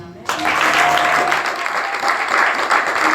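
Church congregation applauding during a Sunday service, a sudden burst of loud clapping from a crowd that starts abruptly and holds steady.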